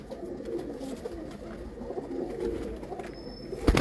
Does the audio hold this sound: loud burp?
no